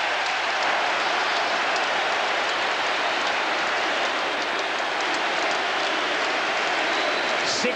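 Highbury crowd at Arsenal's 7-0 Premier League win over Everton in 2004/05 roars for Bergkamp's goal, a broad, continuous wash of cheering at steady loudness throughout.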